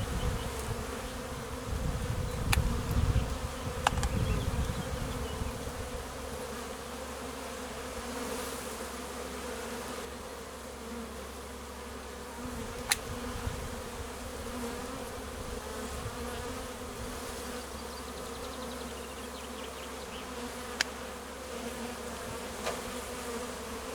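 Steady buzzing from many bees around a swarm at an apiary fills the air, a dense continuous drone with occasional louder passes near the start, no voices.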